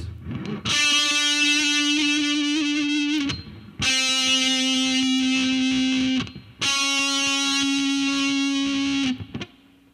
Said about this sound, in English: The last technique I want to show you is called vibrato.